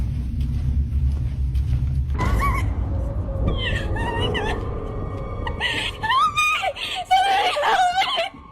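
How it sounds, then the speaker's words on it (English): A woman screams for help in a played horror clip, her high, wavering cries rising loud and repeatedly over a low rumble in the second half, with voices heard beforehand. "she runs and starts screaming for help"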